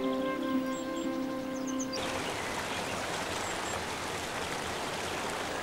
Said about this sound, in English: Streams are the lifelines of the forest